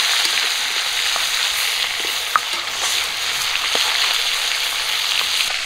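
Rui fish frying in hot oil in a pan, a continuous bright sizzle with a few sharp pops and light stirring clinks, no voices.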